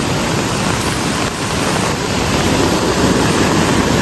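Floodwater of a swollen river rushing in spate during heavy monsoon rain, a dense, roaring broadband wash that stays loud and unbroken throughout, with no voices.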